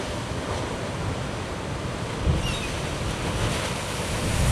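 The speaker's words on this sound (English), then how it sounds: "there should be another one of those big waves coming along." Ocean surf roars steadily at Yachats, Oregon, with a big wave swelling and crashing partway through, and gusty wind rumbling across the microphone.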